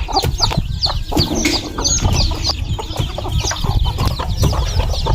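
Chickens cluck and call around a rural Lao hill village, a busy, continuous stream of close clucks with scattered louder squawks and no talking.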